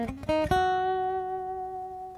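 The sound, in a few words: guitar run-up into the solo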